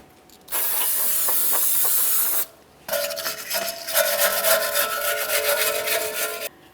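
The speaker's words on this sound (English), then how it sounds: "Let's clean up the backing plate and mounting area." Rubbing and rasping against a Jeep Grand Cherokee (2011-2021) rear brake backing plate and mounting area, two loud sustained bursts of scrubbing with a short pause between, no talking.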